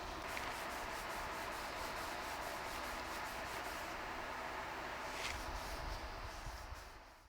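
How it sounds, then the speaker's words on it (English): Sandpaper of 240 grit worked by hand along the grain across the back of a custom guitar body, a steady, soft, close scratchy rubbing with slight rhythmic strokes. "I'm going to sand the back of my body with the grain."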